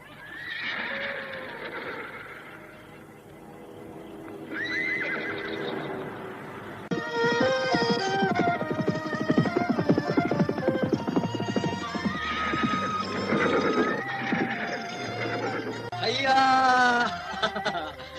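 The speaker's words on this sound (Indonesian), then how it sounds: "dari kegelapan muncul kuda misterius itu dan menyeringai tertawa" A mysterious horse gives a loud, laughing whinny, with several drawn-out neighs and snickering calls over clip-clopping hooves and a busy background.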